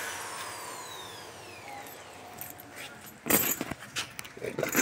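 Keys on a ring jangle in bursts near a Mitsubishi L300 van in a garage while someone hunts for the right key, preceded by a quieter stretch with a faint tonal hum.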